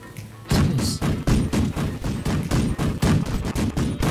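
Battleship naval cannons fire a rapid broadside in a video game: about a dozen loud, booming shots land roughly every half-second in a steady rolling barrage after a brief quiet start.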